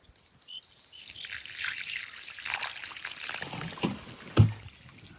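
Water poured onto hard, compacted soil on a pond bank trickles and splashes faintly downhill in soft, uneven bursts, ending with a single sharper thud.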